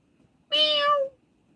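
A single clear cat meow, close and fairly loud, about half a second long, in an otherwise quiet room.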